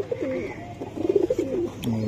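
Kaldom pigeons on a farm give a few soft, close cooing calls in bursts, with brief background voices around them.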